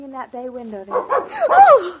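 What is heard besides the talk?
Great Dane dog barking in radio drama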